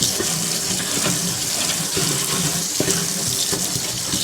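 Tap water runs steadily into a kitchen sink while dishes are washed, a continuous close splashing hiss with faint clinks and bumps of plates now and then.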